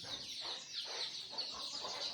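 Chicks and village chickens in a small backyard poultry setup chirp in a constant high chatter with soft clucks, fairly quiet and with no speech.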